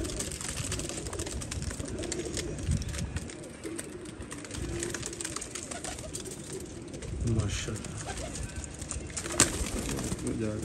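Golden pigeons coo continuously in a loft, with layered, throaty calls, some wing flaps and background voices.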